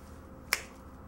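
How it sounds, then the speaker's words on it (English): A single crisp finger snap, sharp and close, with near silence around it. "About as quick as I can snap my fingers."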